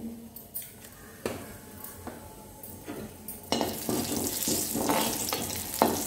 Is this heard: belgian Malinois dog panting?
no